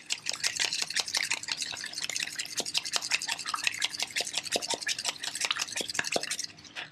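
Eggs whisked briskly with a fork in a bowl, a fast, steady, close clicking and sloshing rhythm that runs continuously for several seconds before stopping.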